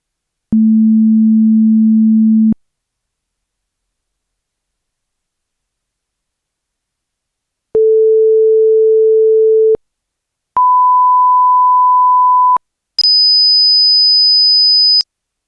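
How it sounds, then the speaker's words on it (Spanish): Four pure electronic tones play one at a time, each steady for about two seconds and each higher in pitch than the last, from a low hum up to a thin shrill whistle, separated by silence. "Escuchamos sonidos de distintas frecuencias."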